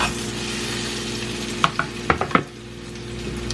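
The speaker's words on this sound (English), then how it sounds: "so now I'm just going to add in the onions" Onions frying in a cheap non-stick pan give a continuous soft sizzle, broken by a handful of sharp scraping and clattering stir strokes near the middle before settling back to the hiss.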